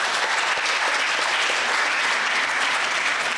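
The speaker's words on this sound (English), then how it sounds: "So big applause to you guys" Audience at a school English debate final applauding the teachers and students, a loud continuous wall of clapping from a packed room, even and sustained from start to finish.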